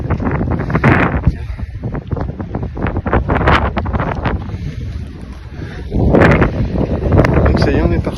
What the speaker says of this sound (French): Oh, il y a pas mal de vent, moins qu'hier